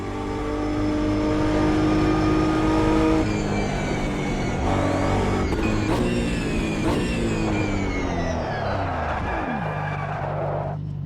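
Race car engine in Automobilista 2 at Le Mans, loud and close, revving through gear changes with tire squeal and skidding as it brakes hard into a corner, no voices.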